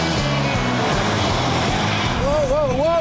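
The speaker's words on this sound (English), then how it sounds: "Can you get the handbrake right? Useless handbrake turn." A Mitsubishi Evo X FQ360 or Subaru Impreza WRX STi is flung into a handbrake turn, its engine roaring steadily with a rising tyre squeal near the end, loud and close, with people talking over it.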